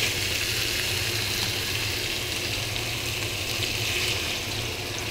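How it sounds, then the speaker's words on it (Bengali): Fish frying in a pan, a continuous, loud crackling sizzle that stays even throughout, close and alone without voices. "আর এদিকে মাছ ভাজা হচ্ছে"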